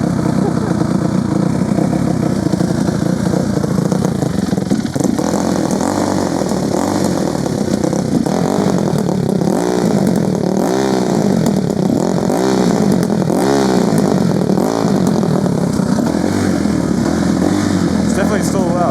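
Dirt bike fitted with a cheap Temu aftermarket muffler idling loud and steady close by, with the engine rising and falling in short revs while warming up.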